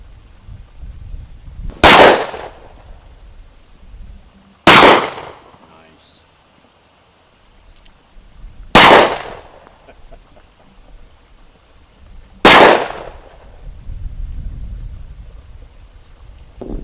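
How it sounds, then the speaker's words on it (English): Four loud, sharp gunshots from a Coonan pistol, a large-caliber handgun, ring out a few seconds apart, each one close and booming with a short echo, separated by quiet gaps. "Allie, this is a monster gun."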